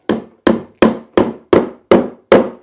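Seven sharp, evenly spaced taps drive a Fischer light-duty plasterboard fixing into a 6mm hole drilled in plasterboard, each knock close, crisp and quickly decaying.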